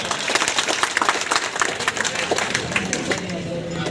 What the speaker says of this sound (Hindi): जोरदार तालियों से आपका